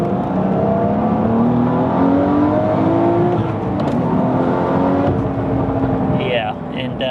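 A Porsche Carrera GTS with a Flat 6 Motorsports Stage 3 power kit (about 520 wheel horsepower, seven-speed manual) pulls with a steady, rising engine tone that steps back down at gear changes. The engine is heard from inside the car, moderately loud.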